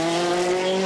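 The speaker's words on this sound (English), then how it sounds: "Again, the John Cooper works, twin exhaust sounding terrific." A Mini John Cooper Works rally car at WRC France 2011, its twin exhaust holding a loud, steady high-pitched engine note with sharp harmonic tones throughout, close and without talk.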